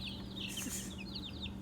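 Small silkie and crested chicks give high, quick chirping clucks in short bursts, fairly quiet and close, over a steady low background hum.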